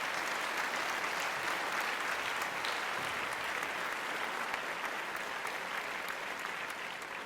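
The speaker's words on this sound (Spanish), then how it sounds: "hay muchas cosas que Dios merece un aplauso. Déselo ahorita." A church congregation claps during a sermon, producing a broad, continuous wash of applause that stays fairly even and somewhat distant for several seconds, with no voices standing out.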